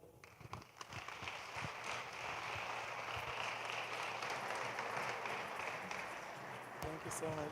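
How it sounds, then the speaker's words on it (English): Steady, dense applause from a large audience at a youth empowerment event fills the space evenly, with a few voices and brief scattered claps heard at the start and end. "A round of applause once again, ladies and gentlemen"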